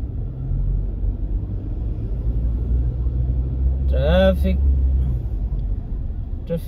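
Road traffic rumbling steadily on a busy city route in Metro Manila, with a low continuous engine drone and a brief horn-like tonal blare midway; speech murmurs faintly underneath.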